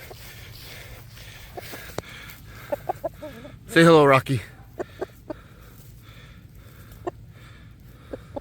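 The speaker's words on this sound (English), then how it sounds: "He's an attack chicken." A chicken clucks close by in a few short sharp calls, with one loud squawking burst in the middle, while a person speaks briefly.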